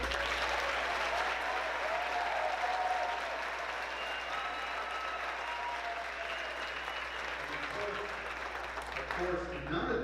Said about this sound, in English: let's give another well-deserved round of applause for our outstanding nominees.